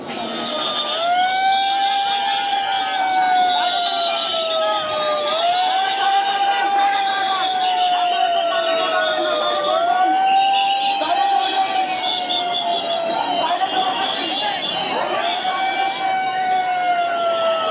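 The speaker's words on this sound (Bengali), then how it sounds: "একেবারে এক অ্যাম্বুলেন্স বেরিয়ে যাচ্ছে।" An ambulance siren wails loudly in a steady, repeating rising-and-falling cycle for many seconds, passing through a busy street with crowd noise and voices beneath it.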